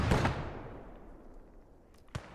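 A mortar fires in the World War II strategy game Gates of Hell: Ostfront, a heavy booming thump at the start that rolls off into a long fading rumble, followed by a sharper distant crack near the end.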